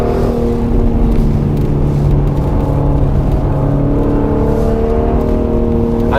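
A Mercedes-AMG GLC43 engine hums at steady, loud revs with a low droning tone. Distinct popcorn pops from the exhaust are not clearly apparent.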